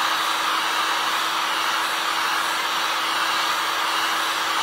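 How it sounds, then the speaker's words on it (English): A heat gun cranked to its highest setting roars with a constant, even whooshing hiss as it softens a decal for removal, close and steady with no voices. "you just take your heat gun, crank it up to the highest setting"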